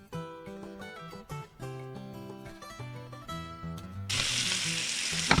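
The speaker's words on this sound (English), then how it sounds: "Just add a little bit of butter and let it fry up in the pan." Smoked kielbasa sausage in butter starts sizzling in a pan near the end, a loud bright hiss entering over music that plays throughout.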